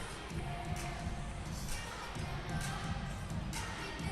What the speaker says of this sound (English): The crowd responding to the penalty kill.